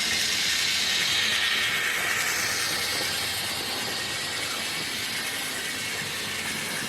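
A twenty-year-old Hornby model railway locomotive runs along the track, producing a continuous broadband hiss and whir that fades slightly over time, close and steady with no talk.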